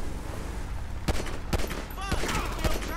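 Several sharp gunshots ring out in the video game GTA V, spaced irregularly over a few seconds against a constant game background hum, with faint game sounds in between.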